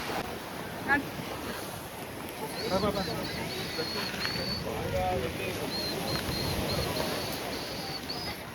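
Waves rolling onto Kurthi beach in Pondicherry with a constant windy surf wash, while voices chatter faintly underneath and occasional high-pitched calls come through.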